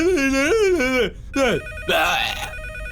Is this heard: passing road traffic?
no